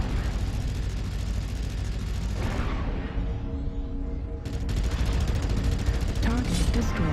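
An ER PPC weapon fires in a MechWarrior game, a loud crackling energy blast with a heavy rumble, a brief lull, then another discharge with whining tones, all dense and close.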